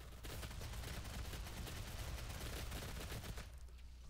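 Rapid, loud bursts of shotgun fire in DOOM multiplayer form a dense, continuous barrage of overlapping blasts that fades slightly at the end.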